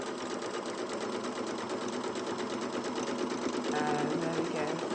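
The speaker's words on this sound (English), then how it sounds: "I'm going to start by hand cranking so that I know where my needle is going exactly" Domestic sewing machine turned by hand crank, stitching through two fabric edges, giving a steady rapid mechanical clatter that runs continuously under a person talking.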